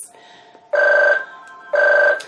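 A telephone rings indoors in two loud, evenly spaced bursts of electronic trilling, each about half a second long with a pause between them, close by and with no voices.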